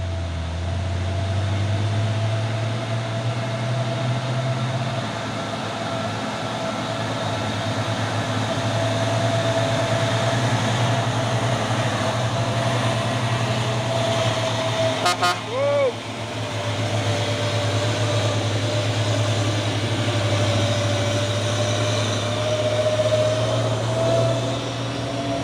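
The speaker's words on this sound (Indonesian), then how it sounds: "Masuk lagi truk tangki CPO 6 kali 4 tadi." A 6x4 CPO tanker truck drives past with a steady, loud diesel drone that holds level throughout, broken briefly by a short mechanical clatter near the middle.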